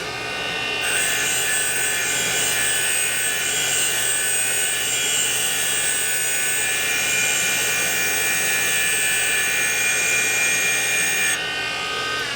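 A Harley FXR valve is ground on a valve-grinding machine during a top-end rebuild, giving a steady, close, high-pitched abrasive whine that runs about ten seconds at even loudness before it stops abruptly.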